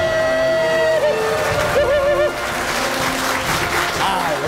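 Office employees of a company that makes Olympic archery bows clap together in a group, a steady loud ripple of applause under cheering voices and music.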